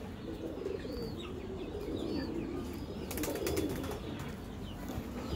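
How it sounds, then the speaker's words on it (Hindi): A pair of pet pigeons coo softly in low, repeated throaty calls, with a few faint chirps and brief wing flutters over quiet background noise. "ये एक जोड़ कबूतर का भी माशाल्लाह।"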